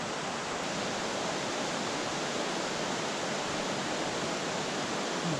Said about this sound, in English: This is a good looking little piece of river right here.